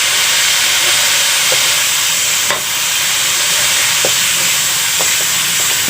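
Chopped garlic frying in melted Star margarine gives a loud, dense, steady hiss and sizzle, with a few faint clicks of a utensil stirring the pan.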